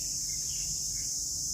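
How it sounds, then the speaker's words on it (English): Cicadas droning at sunrise in Vietnam, a steady, dense high-pitched buzz that holds without a break, with faint low background rumble and no voices. "Those are cicadas."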